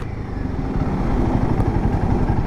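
A KTM Duke 350 motorcycle engine drones steadily at speed, a continuous mid-pitched rumble that swells slightly under load, with no voices over it.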